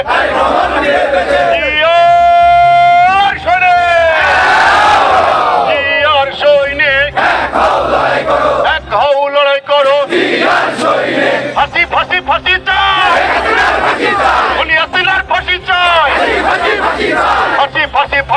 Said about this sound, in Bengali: কুষ্টিয়ার আরও পদবঞ্চিত নেতাকর্মীরা এসে একত্রিত হয়ে বিভিন্ন স্লোগান দেন